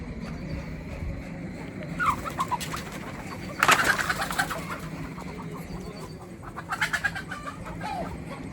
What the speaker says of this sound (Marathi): कोंबड्या उडून गेल्या मला बघून.